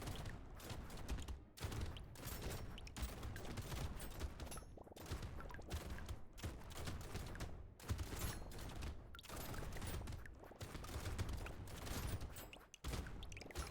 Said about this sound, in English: I am shooting shotguns